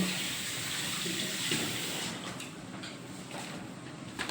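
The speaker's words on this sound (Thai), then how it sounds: "เติมน้ำปลาลงไปค่ะ" Real fish sauce pours into a pot of Thai sour curry with sesbania flowers, a steady liquid splashing hiss that fades to a softer trickle, close and without speech.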